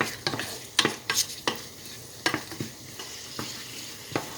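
Bay leaf, cashews and raisins frying in a pan for chicken stew, with repeated sharp scrapes and clinks of a spoon stirring over a soft steady sizzle, close up and with no talking.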